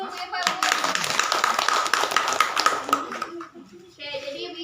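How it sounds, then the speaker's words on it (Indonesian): A group of women at a community health session clap together in a steady burst lasting about three seconds, with voices talking over it and speech resuming as the clapping stops. "Kasih tepuk tangan dulu Bu Epa."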